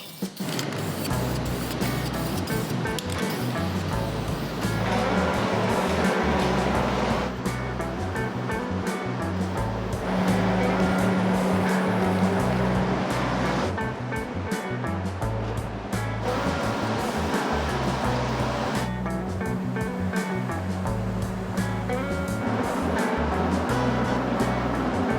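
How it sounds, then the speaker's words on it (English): Self-etch primer is sprayed onto the wheels of a lowered two-door Tahoe, a continuous loud hissing spray in long bursts with brief changes in pressure between passes, close by and without talk. "So what I'm doing now is spraying some self-etch primer."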